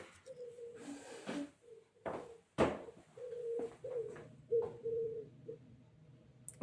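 A turtle dove cooing near a house, a few soft, low repeated coos in short phrases, interrupted by some sharp knocks and clatter nearby.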